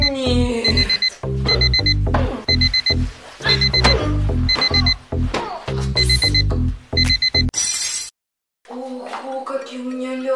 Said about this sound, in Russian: опять этот будильник сраный